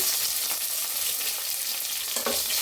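Garlic, curry leaves and cumin seeds fry in hot oil with a loud, continuous crackling sizzle and occasional stirring scrapes, close up and without speech.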